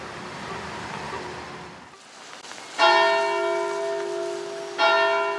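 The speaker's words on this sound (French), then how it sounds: "Ces 9 cloches sont les nouvelles voies de la cathédrale Notre-Dame." Large bells of Notre-Dame cathedral in Paris strike twice, each stroke ringing out loud with long harmonic overtones that decay slowly, heard after a stretch of outdoor background noise.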